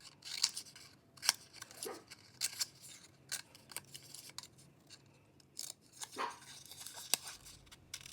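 Scissors snip through drawing paper in big chunks, with a series of sharp crisp cuts at an irregular pace, close and fairly quiet, with faint rustling between the snips.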